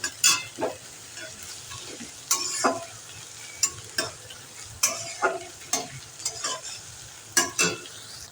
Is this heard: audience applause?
no